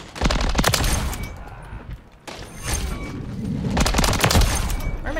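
Dense, continuous gunfire and explosive thuds from a Call of Duty: Modern Warfare 3 match on the Shipment map, loud and close, with a brief lull midway before the shooting resumes.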